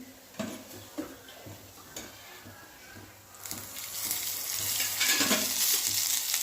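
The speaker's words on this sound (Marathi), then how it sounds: "आता हे छानपैकी भाजून घेऊया मिडियम गॅसवर" Onion, peanuts, green chillies and garlic roast in a little oil over medium gas, soft sizzling with spoon taps against the pan at first, then swelling into a louder, steady hiss, no talking.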